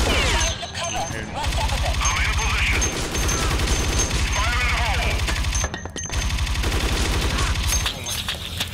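Rapid bursts of video game gunfire in Dead Effect 2, dense and continuous throughout, with someone talking over the shooting.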